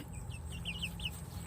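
Chickens make soft, quick clucks in a garden during a cabbage harvest, a few faint calls over low outdoor background noise.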